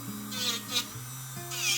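A small electric nail drill whirs with a steady high-pitched motor hum that shifts pitch a few times, close up, with quiet talking around it.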